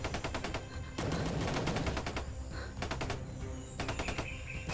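Automatic weapons fire in a shooter game rips out in loud, rapid bursts with short breaks between them, close up and with no voices over it.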